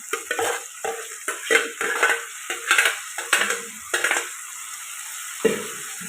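Okra frying in a pan with mashed tomato paste, stirred with a utensil: repeated scraping and stirring clatters over a steady sizzle, close and fairly loud, with no talk.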